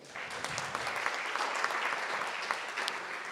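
Applause from an audience at a youth e-voting and democracy presentation, a steady dense clatter of many hands clapping, moderately distant and continuous throughout, with a faint trace of voices underneath.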